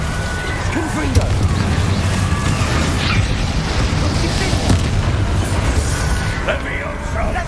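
Confringo spell blasts in Hogwarts Legacy: loud booming explosions and bursts that follow one another close up, mixed with crackling combat noise and a voice talking over them.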